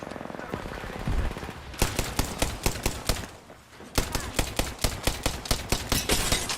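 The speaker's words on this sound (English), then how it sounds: "I'm taking fire, friends. Opening fire on the enemy." Rapid bursts of Apex Legends gunfire crack out in quick repeated volleys, loud and close, with a short lull partway through before the shooting resumes in a steady rhythmic string.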